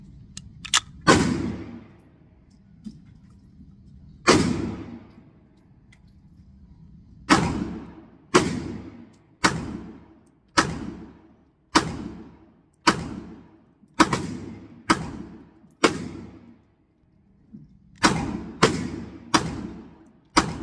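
A 1990s Hi-Point pistol fires about fifteen sharp, loud shots in uneven succession, with irregular pauses between groups as a 10-round magazine is emptied, each crack followed by a short reverberant decay, with no talking.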